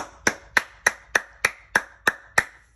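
Eight sharp hand claps land at an even, unhurried pace, each one crisp, close and loud, with brief silence between and no talking.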